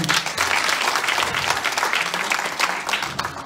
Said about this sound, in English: Can you clap one more time?